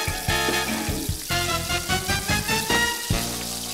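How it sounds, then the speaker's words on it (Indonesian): Red tilapia fish deep-frying in hot oil at a restaurant kitchen, a dense, steady crackling sizzle with bubbling, close and loud, with faint clatter and no voices. "Ikan nila merah digoreng garing dalam minyak yang panas ini."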